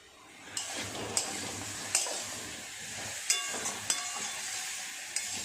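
Diced yam and other vegetables are sautéed in a pan with chilli powder and cumin powder, producing a quiet continuous sizzle broken by several sharp taps of a spoon against the pan.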